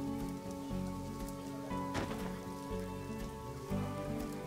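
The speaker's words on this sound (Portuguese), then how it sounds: "Olha que legal a chuva batendo no negócio" Rain in the Planet Zoo video game pattering on a built structure, a soft steady hiss of drops over a low tonal game backdrop, fairly quiet and continuous without speech.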